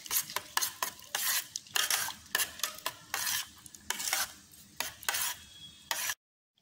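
Spoon stirring curd mixed with mustard-chilli paste, salt and turmeric in a bowl, a steady run of wet scraping and squelching strokes, close and fairly loud, with no voices, ending abruptly.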